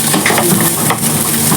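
Indomie instant noodles cook in a pan with a steady close sizzle and faint stirring scrapes that run on alone for the whole stretch.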